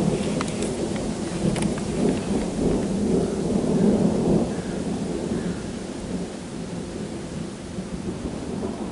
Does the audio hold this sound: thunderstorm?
yes